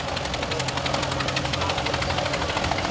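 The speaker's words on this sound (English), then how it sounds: "Got a nice Farmall C from 1948." A 1948 Farmall C tractor engine runs steadily in a parade with an even, rhythmic knocking chug, heard close and continuous.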